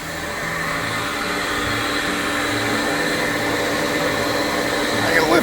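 A CNC vacuum table's suction pump runs continuously up close, a loud steady whine and rushing air with a low motor hum, swelling slightly toward the end.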